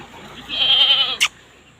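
A single goat bleats loudly for about a second, a wavering nasal call, followed by a short sharp knock; no talking.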